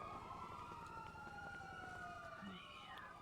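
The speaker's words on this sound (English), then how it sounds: "Don't you just love the sound of sirens in the afternoon?" Police sirens wailing in the GTA roleplay game on an afternoon city street, a steady rising and falling siren tone with a second overlapping wail joining near the end, faint and at a distance.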